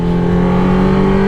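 Two Porsche sports cars drive by on a Dolomites mountain road, giving a loud, close, steady engine drone with strong sustained tones that hold for the whole moment.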